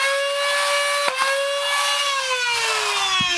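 A Nerf Adventure Force Spectrum flywheel blaster revving up, a loud sustained electric whine that holds steady, with a couple of sharp dart-firing clicks, then slowly winds down in pitch toward the end.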